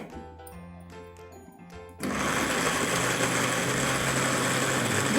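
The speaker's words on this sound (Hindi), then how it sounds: "इसके अंदर हरी मिर्चों के साथ मिक्स करके उसी को हमने थोड़ा सा डाल के और इसको ग्राइंडर कर लें" A kitchen grinder whirs into action about two seconds in, blending masala with tomato puree and green chillies; a steady, loud motor drone with churning texture follows after a quieter start with faint clinks.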